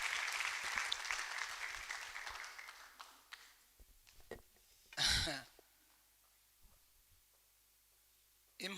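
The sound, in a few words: applause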